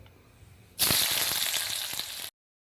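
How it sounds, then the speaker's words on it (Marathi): Chopped onion dropped into hot oil in a kadai, a sudden loud sizzle that bursts in and holds steady for about a second and a half before cutting off abruptly. "गॅसवर आपण कढई ठेवून घेतली, त्याच्यामध्ये तेल घातलेलं आहे 2 पळ्या आणि आता त्याच्यामध्ये आपण हा कांदा घालून घेणार आहोत"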